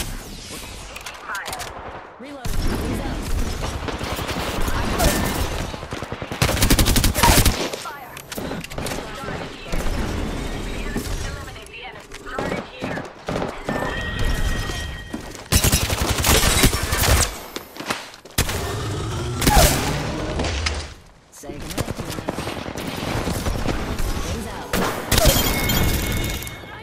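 Apex Legends gameplay with repeated bursts of automatic gunfire, sharp impacts and shattering shield sounds, broken by brief pauses, while game voice lines call out reloads and healing.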